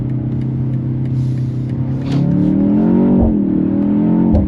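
A 2025 BMW X2 M35i engine pulls hard under acceleration, its loud, close drone rising steadily in pitch with a brief dip partway through, heard alone without talk.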